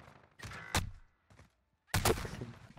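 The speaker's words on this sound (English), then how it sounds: "He got shot like four times through the wall." Gunshots in a first-person shooter game with an AK74u, two sharp bursts separated by quieter thuds, loud and close with brief gaps between.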